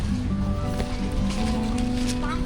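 Rain comes down at Bang Saen beach in Thailand as a loud, steady hiss over a low rumbling background, with no clear speech.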